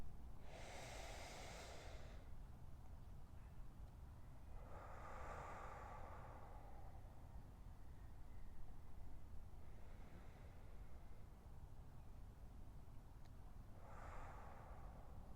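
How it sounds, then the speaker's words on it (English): Relaxed, unhurried deep breathing during a calm presence exercise, with four soft, airy breaths spaced several seconds apart over a steady low background hiss, close and gentle, with no talking. "just take a nice few relaxed deep breaths"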